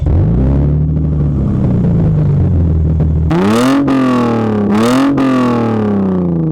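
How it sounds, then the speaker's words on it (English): A Lexus IS250 engine idles with a deep rumble, then revs sharply twice in quick succession through a loud, aggressive custom quad-tip axle-back exhaust with Magnaflow mufflers, close by. "The quad tip exhaust is a custom axle back using Magnaflow mufflers"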